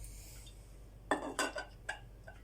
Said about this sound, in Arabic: وكنحاولوا اننا ننعسوا هاد العناصر كامله بشي شوكه هكا